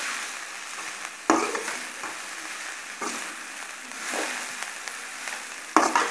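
Wilting keerai greens stirred in a hot pan make a steady close sizzle and fry, with a sharp scrape or clank of the spoon against the pan at a few points.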